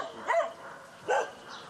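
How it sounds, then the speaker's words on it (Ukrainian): Guard dogs bark at a littered private yard in Rivne, Ukraine, two loud, close barks about a second apart with quieter whimpering between. "На оборону помешкання стають собаки."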